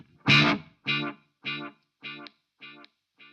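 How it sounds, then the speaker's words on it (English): Guitar note played through a delay effect on a BOSS MS-3 multi-effects switcher, a struck tone followed by five clear repeats at even intervals, each one fainter than the last. "and that delay will keep going"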